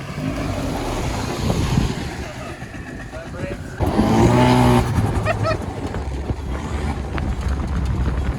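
A home-built supercar is driven for the first time, its engine a rumbling drone that swells into a louder, rising rev midway before settling back, while people talk over it.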